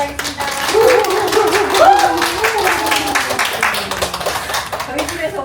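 A small group claps together at the opening of a home meeting indoors, with dense, rhythmic hand claps running throughout alongside voices speaking and a sung or chanted line.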